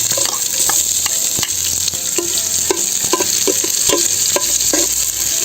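Garlic and onion sauté in a hot pan with a steady, loud sizzle throughout, broken by repeated scraping and stirring taps at an irregular rhythm; no one speaks.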